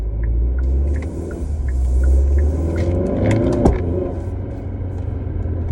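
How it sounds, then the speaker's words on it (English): Kia K5 GT with a dual-clutch transmission and an aftermarket lower engine mount, heard from inside while driving: a steady low engine and road rumble with a slight dip and rise as a gear changes. "So I do notice you do hear the dual clutch trans a little bit more"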